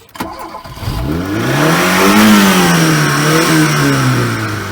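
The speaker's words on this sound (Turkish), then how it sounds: "Arkadaşlar isterseniz sürüşten önce bir sesini duyun. Porsche motorlu arabada ses nasıl olur?" A Honda car engine starts and revs up, its pitch rising and falling as the throttle swells, loud and close, with no talking.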